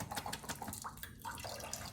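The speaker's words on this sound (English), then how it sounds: "I'm gonna rinse, fill up the can with water, drain one more time" Tap water runs into a can of canned red kidney beans to rinse them, a soft steady splashing stream close by, quiet and without talk.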